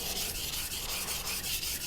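A knife blade strokes back and forth on a synthetic JNS 1000 grit whetstone, giving a smooth, even, rhythmic grinding hiss with regular pulses, close and steady with no voices.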